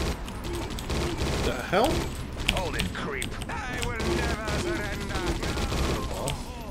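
Rapid gunfire rattles through a round of the Judge Dredd video game, bursts of shots mixed with game effects while a player exclaims and talks over the dense, loud barrage.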